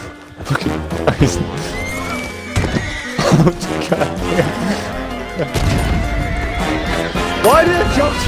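A horse in Red Dead Redemption 2 whinnies loudly amid clattering hooves and busy game effects, while a man exclaims briefly.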